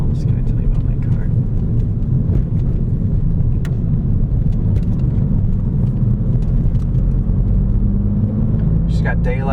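Steady low engine and road rumble from a 2009 Volkswagen Rabbit with manual transmission on an evening drive, heard from inside the cabin, continuous and fairly loud throughout.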